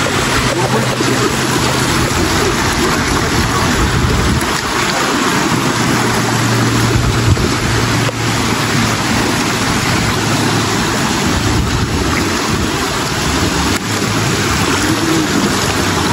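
Water from a wide river rushes in a constant, broadband roar close by, a steady wash of flowing current with no pauses, filling the whole stretch.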